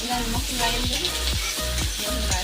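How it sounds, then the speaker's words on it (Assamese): Rohu fish curry with pirali palak greens, Naga coriander leaves and turmeric is stirred in a pan, rhythmic scraping strokes repeating over a continuous loud sizzle. "তাৰপিছতে আকৌ পুনৰ মই লৰাই লৈছোঁ"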